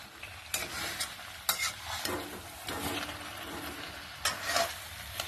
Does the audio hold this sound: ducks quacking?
no